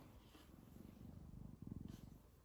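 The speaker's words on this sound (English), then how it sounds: "She's purring when I picked her up." A small kitten purrs softly after being picked up, a faint, close, rhythmic rumbling pulse that swells and fades with each breath, heard alone in a quiet room.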